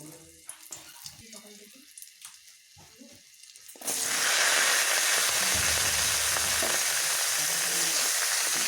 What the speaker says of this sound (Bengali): লাউ শাকগুলোকে একটু এর সঙ্গে একটু নেড়ে চেড়ে নিচ্ছি উপর নিচ করে নিচ্ছি